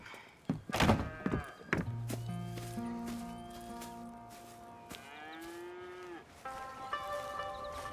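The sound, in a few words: cattle mooing in a video game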